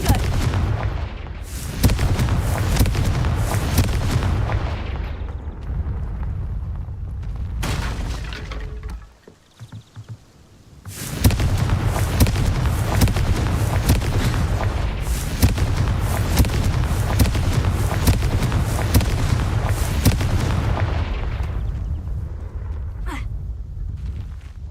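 Loud, repeated explosive booms from the Confringo fire spell in the video game Hogwarts Legacy, near and dense for stretches with a brief quieter gap midway.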